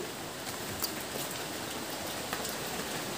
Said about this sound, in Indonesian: Di luar masih hujan.